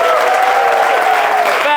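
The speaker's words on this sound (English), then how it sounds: "Round of applause for yourselves" Audience applause at the end of a stand-up comedy show in Amsterdam, a dense, steady wash of clapping lasting under two seconds, with a voice speaking over it near the end.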